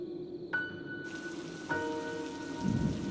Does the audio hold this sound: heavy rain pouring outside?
yes